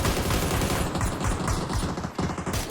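Gunfire rattles in a video game league match, with dense bursts of rapid shots that crackle continuously for a few seconds, fairly loud, with no voices.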